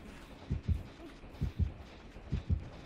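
Killer's heartbeat in the video game Dead by Daylight: three paired low thumps, lub-dub, evenly spaced and clear over faint game ambience.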